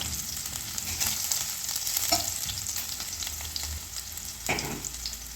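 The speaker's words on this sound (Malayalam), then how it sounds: "അതൊന്ന് നല്ലതായിട്ട് മൂക്കുന്നോളം വരെ നമുക്ക് വഴറ്റി കൊടുക്കണം" Onions sautéing in a pan while being stirred for a rice dish with sardine roe, a steady close sizzle and frying hiss with occasional scraping stirs, no talking.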